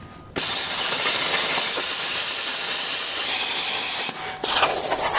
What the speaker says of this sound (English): That is 1/4-inch steel that I just cut with compressed air and electricity.